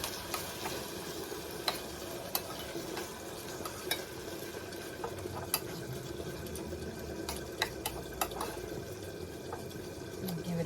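Peppers frying in a pan for a spicy chicken gizzard dish, a steady soft sizzle with scattered sharp crackles and occasional stirring scrapes running throughout at moderate loudness.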